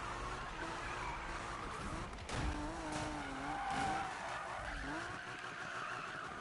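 In a video game, a car drifts with sustained screeching tire squeal over a steady engine roar, the squeal wavering in pitch across several seconds.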